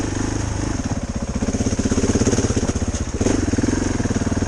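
Enduro motorcycle, a Suzuki DR650 or KTM 690 Enduro R, ridden through a forest, its single-cylinder engine thumping loud and close in a steady pulsing rhythm that briefly eases and then rises again.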